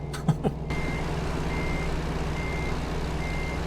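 Reversing beeps in a trucking video game sound as a truck backs a short trailer. Evenly spaced high beeps repeat about once a second over a steady low engine rumble, with a few brief clicks at the start.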